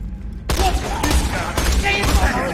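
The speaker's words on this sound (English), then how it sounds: "Don't kill the scavs, just soften them up a little. Then let the turrets work their" Turrets firing in Borderlands The Pre-Sequel, rapid bursts of gunfire and thudding impacts crowding the mix, with a voice talking partly under the shooting.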